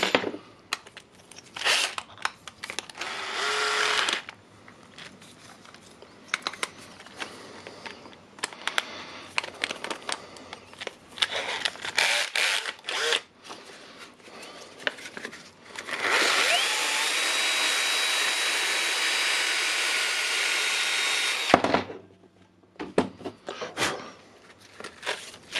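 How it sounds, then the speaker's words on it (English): Sandpaper rubs against the commutator of a Makita DDF482 drill armature, making close, scratchy, irregular strokes, followed by a sustained steady stretch of grinding abrasion before it stops. "let's take some sanding paper"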